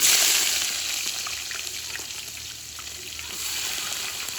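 Steady, loud sizzling of onions frying in hot oil, a continuous hiss with no talking.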